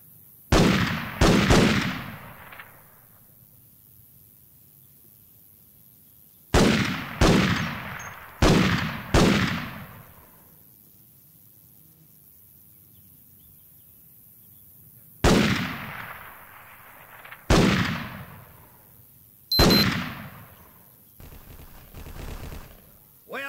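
Rifle shots fired at targets on a training range in Vietcong, sharp loud cracks arriving in quick clusters of two to four with echoing tails, separated by quiet pauses.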